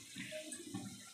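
Water is poured into an Andhra chicken curry in a pan, a short, soft gush and trickle lasting about a second, close and fairly quiet.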